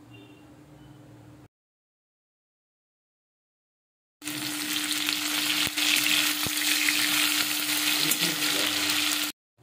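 Potato and pumpkin pieces fry in hot oil, giving a close, bright, steady sizzle with occasional stirring clicks, after a short quieter opening and a silent gap.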